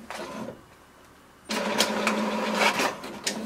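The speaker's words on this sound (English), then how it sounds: "It will send a command to the printer to do the printing." An HP DeskJet 2723 all-in-one printer prints a page: after a quiet mechanical hum it starts into a loud, steady whir with rhythmic clicks and shuttle passes, close and with no voices.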